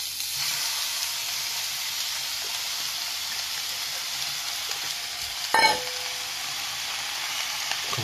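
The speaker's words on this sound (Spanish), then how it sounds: "Vamos a saltear bien nuestro calabacín laminado." Sliced zucchini sautéing in hot oil with ongoing sizzle and crackle, close and even throughout, and one brief louder scrape or clatter partway through.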